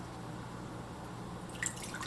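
Water is poured into the freshly washed reservoir of a Decent Espresso DE1+ Pro machine, giving a faint, quiet trickle that ends in a few brief drips.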